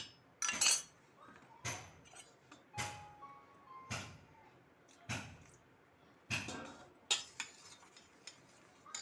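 A metal ladle set down in the bottom of a cooking pot while preparing a vegetarian dish, a series of sharp, close clinks and knocks spaced irregularly across a quiet kitchen.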